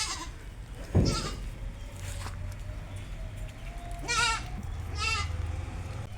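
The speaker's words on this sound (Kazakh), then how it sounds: "Осы Занинский ешкі сатылады" Saanen dairy goats bleat in several distinct wavering calls, one near the start and two louder ones later, against quiet farmyard background with faint shuffling.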